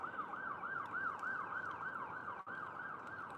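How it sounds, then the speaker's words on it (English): An emergency vehicle siren wails steadily in a repeating rise-and-fall pattern, loud and close, running for the whole stretch with only a brief dip near the end and no talk over it. "Is that a police car?"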